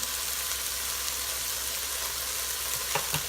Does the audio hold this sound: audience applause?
no